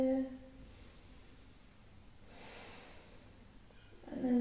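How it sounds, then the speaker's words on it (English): A slow, soft deep breath during a yoga practice, a faint airy exhale swelling in the middle and trailing off, close but quiet against a still room. "Going for one more breath here."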